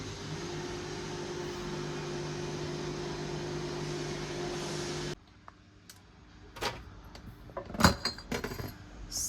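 A home microwave oven heats hair-removal wax with a steady electrical hum for about five seconds, then cuts off, leaving scattered clicks and clattering handling noises nearby.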